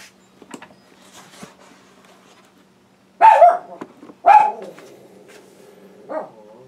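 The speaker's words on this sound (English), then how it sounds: "just ignore the dog." A dog barks twice, loud and close, in an otherwise quiet indoor space, followed by a softer third bark, with faint background noise before it.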